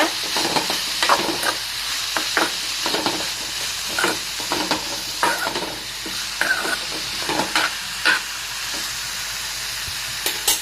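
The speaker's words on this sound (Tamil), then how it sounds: "நல்லா லோ ஃப்ளேம்லேயே வச்சுக்கோங்க. வச்சுட்டு இப்போ இது வந்து நல்லா வந்து வதங்கட்டும்." Ivy gourd (kovakkai) fries in a pan over a low flame with a steady sizzle, and a spoon scrapes and stirs it at irregular intervals. The sound is close and continuous, and no one talks.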